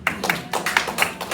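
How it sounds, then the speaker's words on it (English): Classroom applause for a student, a brief scattering of claps from a small group, close and uneven, lasting only about a second. "round of applause for Silas"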